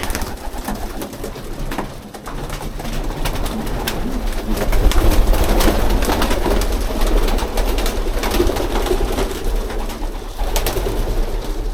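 Many racing pigeons coo continuously in a loft, a dense, overlapping murmur of soft throaty calls with occasional wing flutters.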